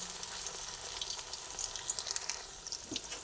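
Spiny gourd fritters fry in hot oil, giving a steady, close, crackling sizzle with small pops and spatters throughout, no voices.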